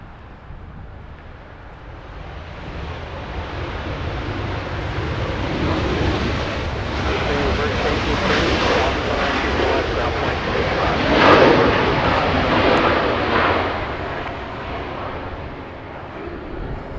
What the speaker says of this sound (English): We didn't miss Southwest touchdown on runway 24 right.